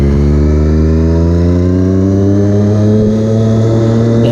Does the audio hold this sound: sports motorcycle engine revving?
yes